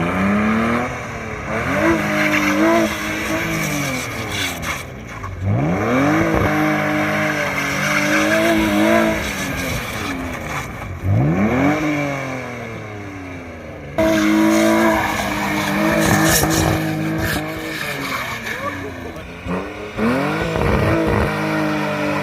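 Car drifting on a late-night mountain road run with the e-brake pulled, engine revving up and down in repeated sweeps while the tires squeal and skid loudly through each slide.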